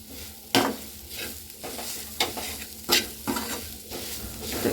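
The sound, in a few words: stirring snack mixture sizzling in pan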